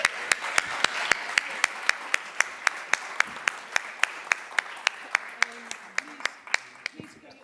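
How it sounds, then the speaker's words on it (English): A conference audience at a university anniversary event claps in steady unison, sharp even beats repeating about three or four times a second over a soft room murmur. "Okay, now we can clap again."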